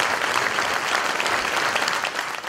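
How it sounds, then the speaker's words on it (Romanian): A theatre audience applauds steadily at a memorial folk-music show, a dense, continuous wash of many hands clapping at close range for the whole stretch, with no pauses. "Dacă știam că mă aplaudați așa"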